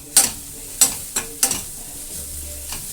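Tomatoes with salt and turmeric powder are stirred in a pan, giving four or five crisp, separate scraping strokes of a spoon against the metal over a soft low hiss.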